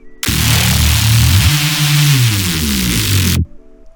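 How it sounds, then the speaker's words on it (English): A thick, buzzing reese synth bass made in Serum drones loudly for about three seconds, its dense detuned tone sliding in pitch midway before cutting off abruptly. "this is how the reese sounds like"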